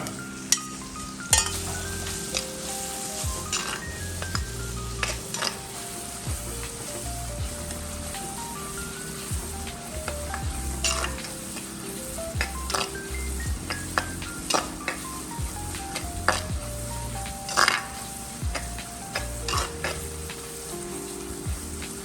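Onion with ginger-garlic paste fries steadily in a pan for tuna fish curry, giving a continuous sizzle broken by occasional utensil clinks over background music.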